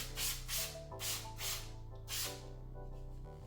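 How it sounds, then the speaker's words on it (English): Several quick bursts of plain water from a spray bottle onto a paludarium background, five short hissing puffs in an even rhythm over a steady background hum. "Just spray this with some normal water."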